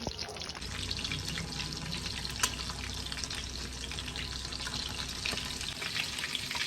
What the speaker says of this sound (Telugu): ఇప్పుడు ఫిష్ ఫ్రై చేస్తూ ఉన్నాను.